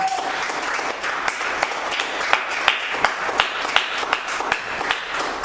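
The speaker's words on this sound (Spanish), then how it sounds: "Denle fuerte sus palmas para Cristo" A church congregation claps rhythmically for Christ, many hands beating a quick steady pulse, loud and close, with a faint voice briefly audible at the start.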